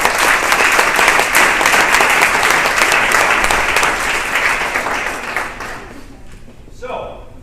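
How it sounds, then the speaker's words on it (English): A meeting audience gives cancer survivors a round of applause, with loud, sustained clapping from many people that thins and fades toward the end, leaving a short quiet tail. "I would like to tonight recognize all of our survivors and give them a nice round of applause"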